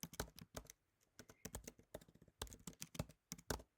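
Quick bursts of close computer keyboard clicks, some rapid and some spaced with short pauses, typed alone as Python code is entered.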